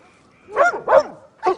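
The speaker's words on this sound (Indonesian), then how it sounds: "Dodge, what are you barking at?" A dog gives three sharp, close barks in quick succession, the first two run close together and the last after a short gap.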